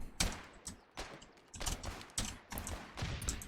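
Rapid bursts of gunfire from the online war game Foxhole crackle in quick succession, dense and continuous across the moment.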